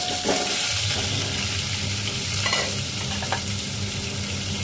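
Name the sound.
salted hog plums added to sizzling tempering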